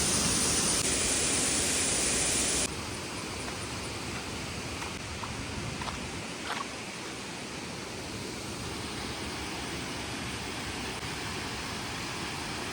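Steady broadband rush of water at Aanayadikuth waterfall, loud at first then settling into a constant, moderately faint roar with no talk.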